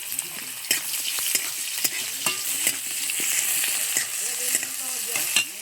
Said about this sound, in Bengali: শুকনো লঙ্কাগুলো তেলে একটু নেড়ে চেড়ে নিচ্ছে দিয়ে দেবো পেঁয়াজ কুচি একটু বেশি করে দিচ্ছি